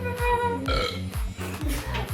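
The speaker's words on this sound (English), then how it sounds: "Burping." A person burps several times in quick succession, loud and close, each belch a low guttural croak with short breaks between them, made as part of a sound-guessing game among friends.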